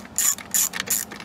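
Ratchet removing 10 mm nuts on a Honda EU6500is generator: three short, close, crisp bursts of clicking in a steady rhythm.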